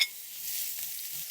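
Onion and half a red pepper sizzle in a hot pan, a steady bright hiss that holds evenly and fairly quietly throughout, with no voices.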